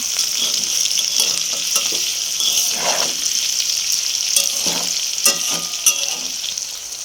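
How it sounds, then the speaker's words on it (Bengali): New potatoes fry in a pan in a steady bright sizzle, with a few scraping stirs and small pops throughout. "এই যে এখানে আলু ভাজা হচ্ছে নতুন আলুর ভাজা"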